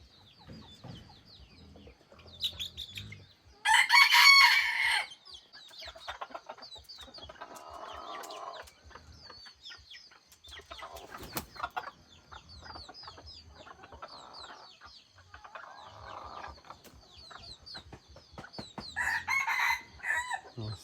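A rooster crows loudly nearby, a long strained call, with a second crow starting near the end amid quieter farmyard clucking and rustling.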